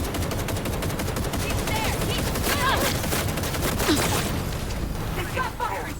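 Rapid bursts of automatic gunfire in a video game, dense and continuous throughout, with people talking excitedly over the shooting.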